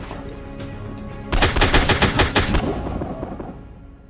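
Gunfire in a modded online shooter: a rapid, loud burst of roughly eight to ten cracking shots over about a second and a half, trailing into a fading echo, with no talk over it.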